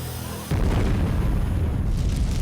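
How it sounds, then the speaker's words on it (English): A cartoon catapult fires with a sudden heavy boom that holds as a loud rumbling roar for about two seconds. "Now fire the catapult."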